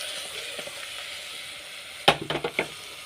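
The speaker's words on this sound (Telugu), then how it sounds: "సొర్రుగా సౌండ్ వస్తుంది." Dal curry made with cucumber sizzles in a pan over a low flame, a steady soft hiss running throughout, with a few sharp clatters of stirring near the end.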